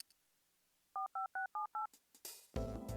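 Telephone keypad tones from the video game Devil Survivor 2: five short, evenly spaced dialing beeps, clear and close, followed by a brief burst of static and a loud electronic rush.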